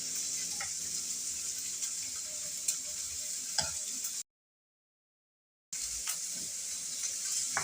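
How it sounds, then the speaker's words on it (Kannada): Onion and tomato (sour tomatoes) frying in a pan for Kannada-style avarekalu (lima bean) sambar: steady close sizzle with occasional stirring scrapes, broken by a short silent gap before the frying resumes. "ಈಗ ಇದು ಚೆನ್ನಾಗಿ ಫ್ರೈ ಆಗಿದೆ"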